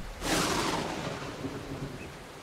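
A rolling thunderclap bursts and slowly fades over a steady wash of rain in the farming game Farmer's Life, loud and close at first, then decaying into constant rainfall with no voices.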